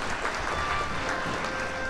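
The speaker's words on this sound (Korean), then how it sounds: "자, 박수 부탁드리겠습니다." An audience at a festival opening ceremony claps steadily, a continuous wash of applause from many hands, moderately loud and even throughout the short burst.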